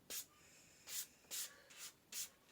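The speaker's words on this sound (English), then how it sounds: "we have sandpaper here, and we just give them a little smoothing over. We just want to get all the sawdust off" Sandpaper rubs over farm eggs to clear off clinging sawdust, giving five short, soft scratchy strokes with brief pauses between them, close and quiet with no talking.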